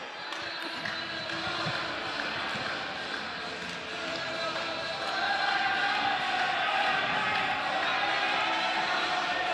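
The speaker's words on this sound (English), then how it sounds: "A lot of cheering going on over in the main arena, just in front of us" Crowd cheering drifts from the main arena of a snooker event, a steady, muffled roar of voices and applause, with the swell rising in the second half.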